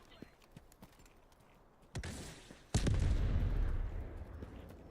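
A few sharp gunshot-like bangs ring out in the video game Delta Force, the last followed by a sustained rumbling blast, over quiet clicking in the background.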